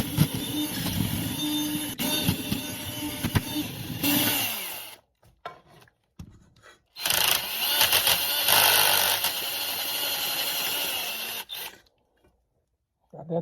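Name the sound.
reaming out a hole in steel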